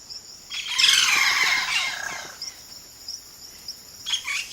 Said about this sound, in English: A single bird can sound like a chorus.